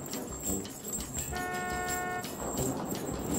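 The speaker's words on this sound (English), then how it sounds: "Okay, so I only need to honk just a little." A car horn in a video game toots in a sustained tone for about a second amid steady background noise, with faint talk.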